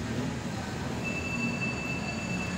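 A train's steady rumble with a thin, sustained high squeal of wheels on rails as it departs a station, continuous and fairly close, no voices.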